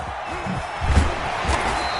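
A video game stadium crowd at an NFL matchup between the Philadelphia Eagles and the Washington football team roars in a broad, steady wash, swelling briefly near the middle.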